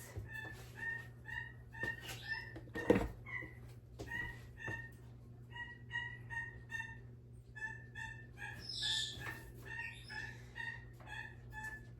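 A pet bird calls and chatters in repeated short bursts, with clucking, crowing-like notes, and one sharp louder sound partway through, against a steady low hum.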